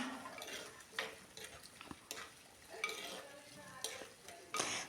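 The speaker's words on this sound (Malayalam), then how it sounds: "ഒരു വലിയ സവോള കൂടി നമുക്ക് അരിഞ്ഞത് ചേർത്ത് കൊടുത്ത് നന്നായിട്ട് തന്നെ വഴറ്റിയെടുക്കാം" A large chopped onion sautés in a pan for a dried shark curry with kudampuli, with quiet, close spatula scrapes and metallic clinks over a faint sizzle, no talking.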